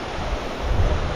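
Canal water in a Punjab village, Pakistan, flows slowly with a steady, broad rushing wash, mixed with some wind noise on the microphone and no voices.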